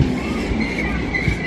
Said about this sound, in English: the train was also pulling in as I was going down the steps then